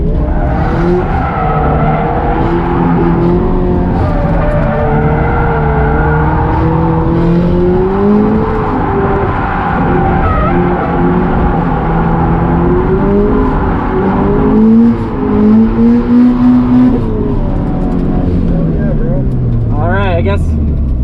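A turbocharged FRS drift car's engine drones and revs continuously, pitch rising and falling with tire noise close and loud throughout, and a brief squeal near the end.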